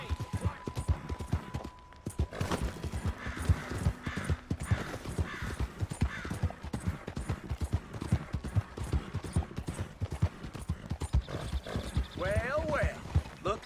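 Horse hooves clip-clop in a steady, brisk rhythm throughout a video game scene, loud and close, with a voice speaking over them and a brief whinny near the end.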